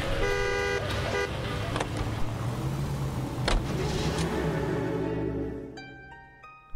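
A car engine hums steadily in L.A. Noire, and short horn toots sound over it before the engine fades out near the end.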